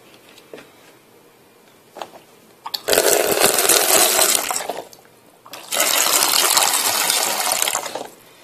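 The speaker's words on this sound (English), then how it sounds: "water in pot number 2 over the rim." Water poured into a pump pot until it runs over the rim, two loud gushing bursts of about two seconds each separated by a quiet pause, with faint knocks and drips before and between them.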